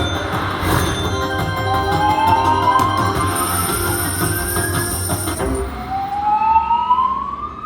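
Emergency alarm siren wailing inside a casino, rising sweeps repeating over a dense wash of slot machine chimes and room noise, loud and continuous.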